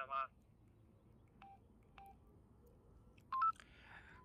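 Short electronic beeps and tones from a Xiaomi digital walkie-talkie, a few brief chirps spaced apart over a quiet background, with a louder double tone near the end.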